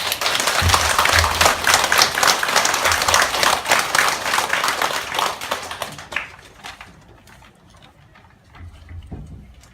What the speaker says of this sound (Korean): 참 부모님께 한번 우리가 기쁨과 영광의 박수를 한번 올려드리면 어떻겠습니까?